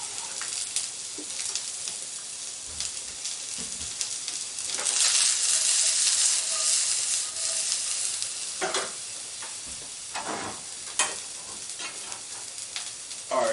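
Onions hit a hot pan in a home kitchen and sizzle steadily, swelling into a louder hiss midway, with scattered stirring scrapes and taps and no one talking.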